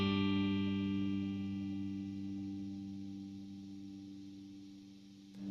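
One electric guitar chord played through a compressor pedal, holding its level with long, even sustain for several seconds before a faint noise at the end, no voices.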